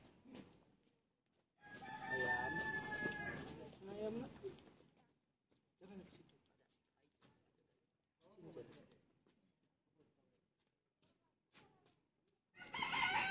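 A rooster crows once in a faint, distant call, and chickens cluck now and then in the quiet gaps, while a small child and an adult talk nearby.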